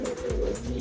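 Birmingham Roller pigeons from a breeder's loft give a steady low cooing hum throughout, close and fairly loud, with no talk over it.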